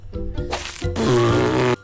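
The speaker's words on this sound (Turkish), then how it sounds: "Gördüğünüz gibi geğirdi." A loud, close burp after eating chips, one short croak followed by a longer, deep, rasping belch that stops abruptly.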